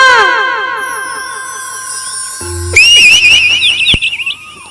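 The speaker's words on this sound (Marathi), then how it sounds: "शिट्टी कशी वाजली पाहिजे" A whistle blown during a Marathi devotional jagaran dance performance, its shrill, wavering tones rising loudly over music in the second half.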